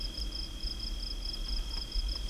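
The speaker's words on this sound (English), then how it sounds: "You can hear the crickets chirping." Crickets chirping at night on a wildlife camera's outdoor audio, a steady pulsing high trill that repeats evenly over a low background rumble, with no voices.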